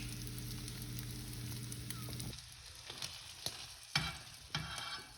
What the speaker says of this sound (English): You can see that this is sizzling.